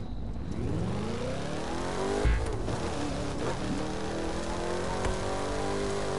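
A video game car engine revs hard as it labours up a hill, a loud sustained drone with rising pitch and a brief bump in the middle, with no speech over it.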